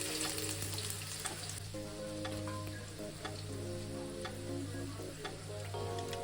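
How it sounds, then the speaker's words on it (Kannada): Sliced onions for egg rice frying in hot oil in a pan: a dense, continuous sizzle with crackles near the mic, over a low steady hum, with no speech. "ಎಣ್ಣೆ ಕಾದ್ಮೇಲೆ ಇದಕ್ಕೆ 3 ಹಚ್ಚಿರುವಂಥ ಈರುಳ್ಳಿ ಹಾಕೋತಾ ಇದ್ದೀನಿ"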